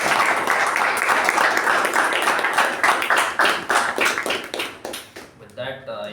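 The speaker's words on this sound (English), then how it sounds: "can we have a wonderful round of applause for our Master of Ceremonies?" An audience at a meeting claps together in a dense burst of applause that thins out and fades toward the end, with a voice beginning as it dies away.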